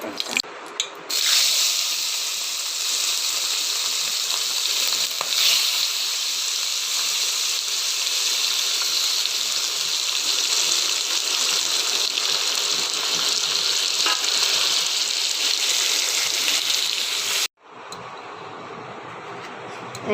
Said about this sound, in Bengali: কড়াইয়ে তেল চাপিয়ে দিয়েছি এরপর মাছগুলো আমি ভেজে নেবো